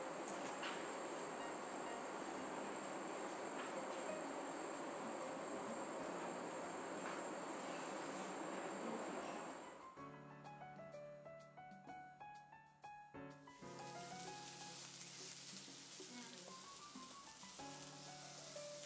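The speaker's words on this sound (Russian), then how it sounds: "Начнем жарить мы с наших шашлычков." Yakitori chicken skewers sizzle loudly and steadily in a hot pan for about ten seconds, then music takes over before the frying returns.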